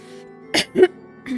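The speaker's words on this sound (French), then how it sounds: "Pardon, je tousse, je suis désolée." Two or three short, rough coughs from a woman in quick succession, close by, with a faint background hum between them.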